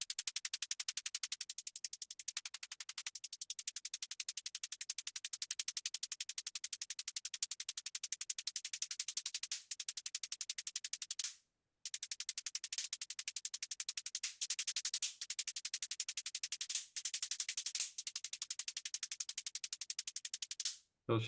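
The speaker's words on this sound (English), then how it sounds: "which is kind of like the pitch of the white noise." Filtered white noise with its formant shifted, a synth layer for a drum and bass top loop, hisses steadily and bright for about twenty seconds, broken by a few short gaps and rhythmic dropouts toward the end, with no voices.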